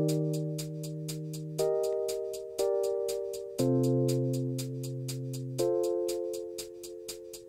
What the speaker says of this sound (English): So then all the hi-hats together sound like this.